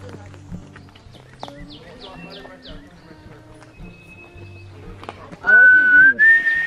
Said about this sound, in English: the bird sounds so good